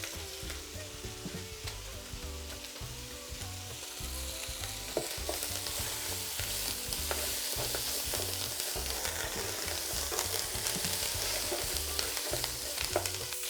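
Food fries and sizzles steadily in a hot pan with a big dose of thyme added, cooking over high heat as a Christmas dinner is prepared; a continuous crackle with occasional stirring, close and alone without talk.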